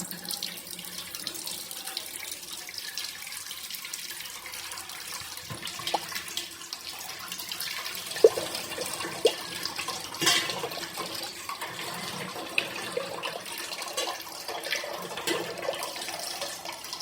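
Hot water pours steadily from a tap into a kitchen sink, a continuous close hiss and splash with occasional small clinks and knocks over the top.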